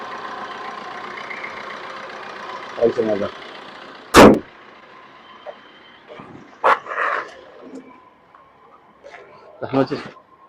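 A Maruti Vitara Brezza diesel, top-end variant, idles with a steady, smooth low hum. Dog barks, knocks and thumps break in several times over the running engine.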